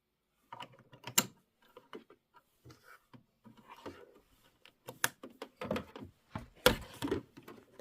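An embroidery machine stitches a heart-and-home door decor design in a 5x7 hoop, giving quiet mechanical whirring and irregular clicking bursts that grow busier and louder toward the end.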